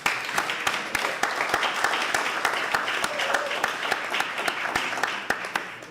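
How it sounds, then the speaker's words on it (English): An audience at a community meeting applauds itself, a steady crowd clapping with sharp individual claps standing out, and voices murmur underneath. "So give yourself a round of applause."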